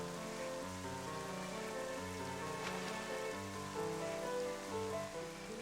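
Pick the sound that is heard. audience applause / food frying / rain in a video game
rain in a video game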